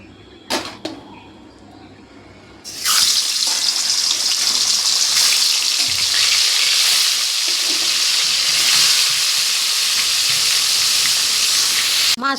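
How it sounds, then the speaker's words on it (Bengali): Turmeric- and salt-rubbed katla fish frying in oil in a wok: after a couple of soft clatters, the fish goes in and a loud, dense, steady sizzle erupts and continues close up. "এটাকে এবার ভেজে নেব। কড়াই তেল দিয়ে দিয়েছি"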